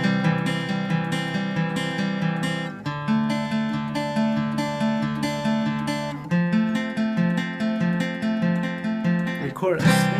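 Acoustic guitar plays a melodic bridge arrangement of a song, individual picked notes ringing over repeating chord patterns in several phrases, close and clear with no voice.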